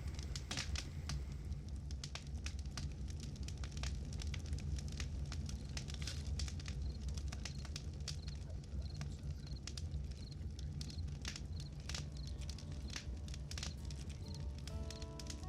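A campfire crackles beside a river canoe campsite at night, with dense irregular pops and snaps over a soft steady hiss, fairly faint and continuous, no voices.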